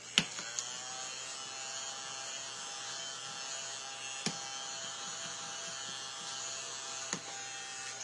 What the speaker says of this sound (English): see how that little vacuum just cleaned all that up?